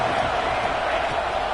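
Dense, steady roar of a football stadium crowd cheering at Ole Miss before a big third down, loud and continuous, with no breaks across the whole stretch.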